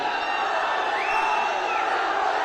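Fans at a film trailer launch event shout and cheer together in a dense, steady roar that fills the space, with one rising whoop standing out partway through.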